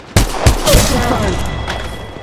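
Rapid gunfire from Apex Legends Mobile: several loud, sharp shots in quick succession near the start, then a decaying rumble and faint echoes.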